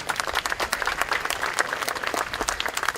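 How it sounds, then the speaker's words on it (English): A crowd at an outdoor July 4th band concert applauds a trustee, steady clapping with irregular individual claps standing out throughout, moderately close. "let's give him a round of applause"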